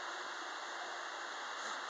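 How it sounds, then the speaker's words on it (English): A small waterfall beside a hotel pool makes a steady, even rush of falling water that stays constant throughout, with no voices over it. "Another waterfall."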